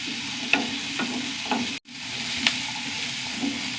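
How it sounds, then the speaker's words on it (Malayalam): Food fries in a pan, giving a soft steady sizzle with a few light clinks and scrapes of stirring and one brief cutoff partway through. "ഇത് വറക്കണം നന്നായി വഴണ്ട് വരണം"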